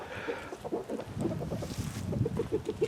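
Backyard hens, some of them six years old, give a run of low, repeated clucks that grow more regular toward the end, close by and steady.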